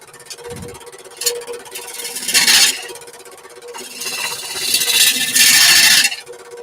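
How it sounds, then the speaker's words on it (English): A gouge on a wood lathe faces off the end of a spinning workpiece, giving loud rasping scrapes and squealing bursts that swell and fade over a steady motor whine, close and harsh. "he's trying to face off the end, Blair, and the gouge is the ideal tool for doing that"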